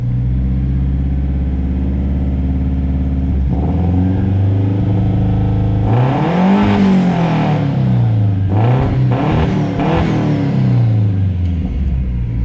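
Boosted Honda CR-V engine, after a fix to a faulty injector wire, idling with a loud, steady rumble, then revved in several rising and falling bursts, close and without voices.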